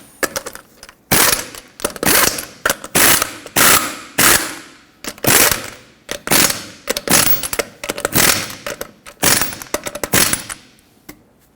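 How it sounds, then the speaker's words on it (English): A ratchet wrench tightens lug nuts on a Toyota Tacoma wheel in a series of loud, close bursts of rapid clicking, separated by short pauses as the handle swings back. "tighten them to 83 foot-pounds"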